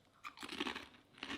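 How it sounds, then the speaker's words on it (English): Crunching bites into a crinkle-cut, sour cream flavoured Finnish crisp, a few close, crisp crackling crunches in quick succession with no talking. "That's a great crunch."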